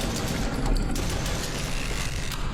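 Gunshots in a horror video game rattle off in a dense, rapid burst of sharp cracks that overlap into a continuous volley, with no talking.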